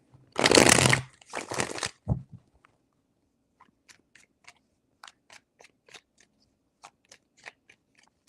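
Tarot cards shuffled in two strong bursts of riffling at the start, then a string of soft, evenly spaced taps and flicks as single cards are handled, close up and quiet, with no talk.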